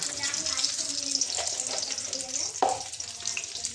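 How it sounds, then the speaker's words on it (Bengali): Garlic, ginger, chilli and bay leaf crackle and sizzle steadily in hot oil, with light stirring and a brief clatter partway through; no one speaks. "লঙ্কা বেশি করে রসুন আর আদার ফোড়ন দিয়ে"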